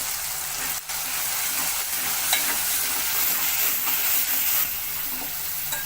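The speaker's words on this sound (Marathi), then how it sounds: "गरम मसाला, हळद आणि मीठ आणि मिरची पावडर हे पण इथं तळायसाठी टाकूया" Garam masala, turmeric, salt and chili powder fry with onion for a cluster bean vegetable dish, producing a steady loud sizzle with faint stirring scrapes, close and continuous.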